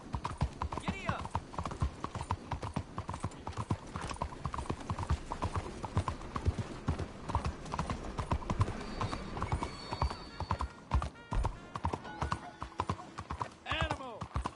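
A horse gallops in Red Dead Redemption 2, its rapid clip-clop hoofbeats pounding steadily alongside a whinny, with a voice shouting over the ride.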